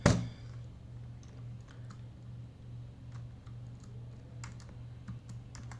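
Computer keyboard typing, a soft irregular patter of light key clicks over a steady low hum, with one sharper knock at the very start.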